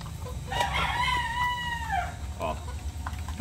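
Bulik gamecock roosters in a pen, one loud near crow rising and falling over about two seconds, followed by short clucks, with faint talk in the background.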